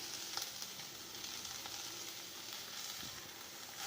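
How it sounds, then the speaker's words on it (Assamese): Fish curry with onion greens and turmeric is stirred in a pan, a soft, fairly faint steady sizzle with light scraping touches and no voices. "ৰঙালাওখিনি দি ভালকৈ লৰাই দিব।"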